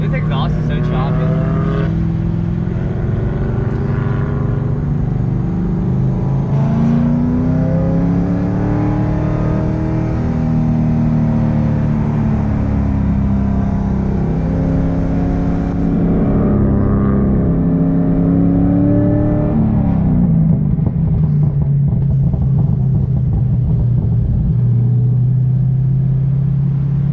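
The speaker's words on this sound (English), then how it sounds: "This exhaust is so choppy." A Corvette with a burble exhaust tune lapping Circuit of the Americas, its loud, choppy exhaust note rising and falling steadily throughout as voices talk over it.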